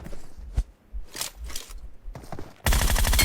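Gunfire from a shooting video game: short bursts of shots between pauses, then a loud, dense, continuous volley at the end.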